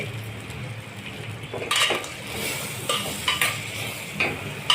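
Capsicum and peas sauté in a pan, a continuous close sizzle broken by several sharp scrapes and clinks of a spatula against the metal, with no talking.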